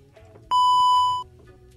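A radio show's censor beep: one steady, loud electronic tone lasting under a second, cutting sharply in and out over quiet studio background.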